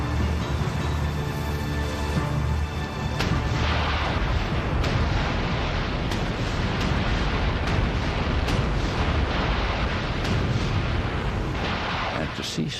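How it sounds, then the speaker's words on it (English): Naval fleet guns bombard the coast on D-Day, a dense continuous roar of rumbling gunfire and booms with sharp bursts, music fading out early and a voice faintly present. "Then, just after 5:30,"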